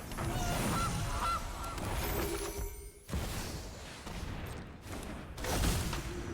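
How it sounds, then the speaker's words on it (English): Goose honks ring out as the Gilded Goose card is played in a Magic: The Gathering match, a loud honking burst over busy game effects and crashes, then further clattering impacts, no talk. "Gilded Goose."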